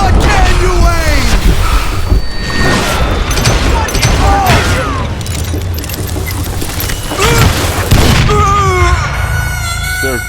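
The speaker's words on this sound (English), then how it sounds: "Acertei a dinamite de novo." Dynamite blasts in Call of Juarez: Gunslinger, a Western shooter, land as loud booms in a busy gunfight mix with gunfire and a boss's shouted taunts.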